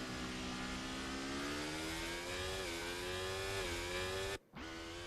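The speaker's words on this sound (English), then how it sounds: "Listen to the revs of the engine and watch the front end of the car." F1 car engine from the F1 24 racing game screams at high revs, pitch climbing steadily through a gear, then a brief cut near the end as the next gear engages before the whine resumes; loud and continuous with no talk.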